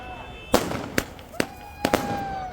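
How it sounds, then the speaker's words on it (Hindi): Fireworks and firecrackers set off in celebration in Baramulla crack in four or five sharp bangs spaced irregularly, over a faint background hum with a whistling tone between bursts. "बारामूला में जमकर आतिशबाजी की गई। उनके परिजनों और रिश्तेदारों ने खूब पटाखे छोड़े।"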